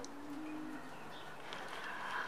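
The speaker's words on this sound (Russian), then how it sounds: "Воркуют голуби." White pigeons coo softly in a farmyard where many animals are kept, a low murmuring call under a faint background hum, modest in loudness and not far off.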